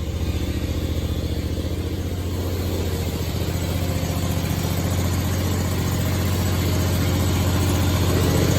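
A 2017 Scag Tiger Cat II zero-turn mower engine idles after its first start of the season with the choke off, a steady, close, throbbing run that swells slightly toward the end, no talk.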